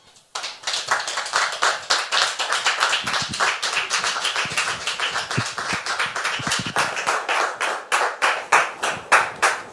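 Studio audience applauding on a French talk show, dense steady clapping from a crowd that starts abruptly and holds loud and close the whole time, with no voices over it.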